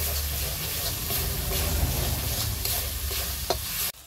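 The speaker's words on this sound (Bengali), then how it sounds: "মশলাটা ভালো করে ভেজে নেব।" Ground coriander and chilli powder fry in a hot pan, a steady, loud sizzle running broadband with scraping stirs throughout, cutting off abruptly near the end.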